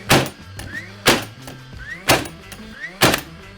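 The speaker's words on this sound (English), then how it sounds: "So that's a flywheel in there that has to wind up." A cordless flywheel nailer repeatedly spins up with a short rising whine, then fires with a loud, sharp thunk, about four cycles spaced roughly a second apart, close and alone.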